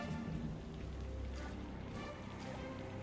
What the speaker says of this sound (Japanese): わあ、横方向じゃん、雨。